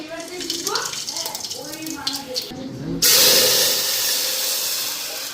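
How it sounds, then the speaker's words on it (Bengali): Black cumin seeds hit hot oil for moong dal and burst into a loud, sudden sizzling hiss that holds steady and slowly fades, with a person talking just before. "তো জিরাটা দিয়া দিই"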